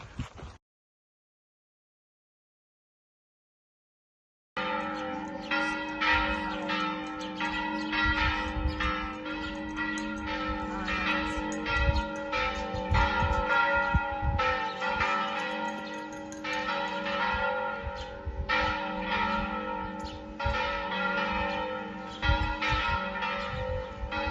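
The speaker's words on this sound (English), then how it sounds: "Church bells telling us that it is what?" Church bells peal continuously after a brief silence along the Camino Francés in Spain, overlapping strikes ringing loud and steady with a rich, resonant tone.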